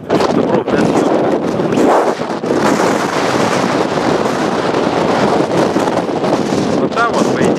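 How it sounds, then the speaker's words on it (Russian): Very strong wind buffets the microphone nonstop with a loud, roaring rush near a hotel overlooking mountains, dipping only briefly before gusting back. "Ветер сильнейший."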